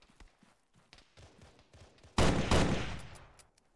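Gunfire in a shooter video game: a burst of loud close shots erupts after scattered footsteps and small clicks, then rings out and fades.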